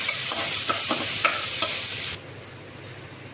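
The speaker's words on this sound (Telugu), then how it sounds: "ఈ తెల్లులు కొద్దిగా బాగా మగ్గాలండి." Garlic sautéing in a pan, a sizzle broken by rhythmic stirring scrapes that stops abruptly, leaving a quieter background with faint clinks.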